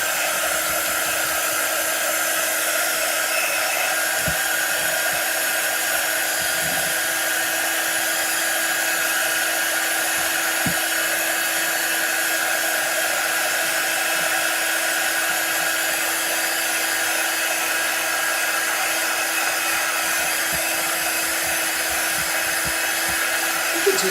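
A hair dryer blows steadily and close for the whole stretch, drying paint on decorative 3D eggs, a continuous whooshing hum with a few faint taps and handling noises beneath it.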